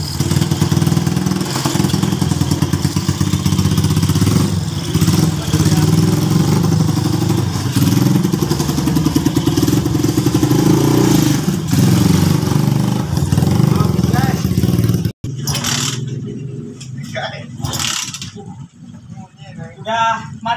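A motorcycle engine runs steadily and loud for about fifteen seconds, probably after an oil change done with powdered detergent, then cuts off abruptly, leaving quieter talk and clatter.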